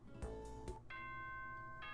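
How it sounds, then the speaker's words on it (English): Electronic doorbell chime in the visual novel Danganronpa, two quick soft dings followed by a longer sustained bright tone, fairly quiet and alone without talk. "Ding dong."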